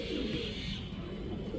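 Pigeons coo softly and continuously in a loft, a low, dense murmur of overlapping calls with no voices heard.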